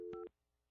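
A short burst of telephone dialing tones, two brief steady beeps in quick succession, heard clearly and alone before quiet.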